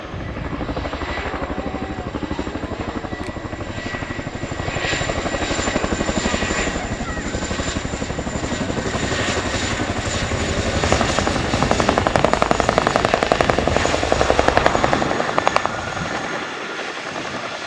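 A Chinook twin-rotor helicopter performing a two-wheel taxi at an air show thumps with a rapid, steady blade beat and engine whine, loud and close, swelling slightly in intensity over time.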